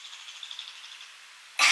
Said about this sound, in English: No, that's a bird.